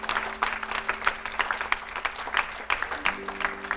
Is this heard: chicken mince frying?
no